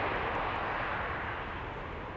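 A jet airliner takes off at Amsterdam Schiphol Airport, its engines a steady, loud, broadband roar that holds close and unbroken throughout with no voices.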